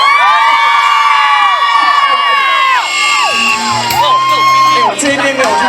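An outdoor concert crowd at a school event in Changzhi, Pingtung cheers and screams loudly and continuously, with high shrieks and whoops rising and falling across the whole stretch.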